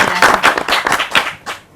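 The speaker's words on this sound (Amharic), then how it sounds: "ለመስከረም 17 አጨብጭቡላችሁ።" Brief burst of clapping from a studio audience at a televised family quiz show, several hands clapping in an uneven patter that fades within two seconds.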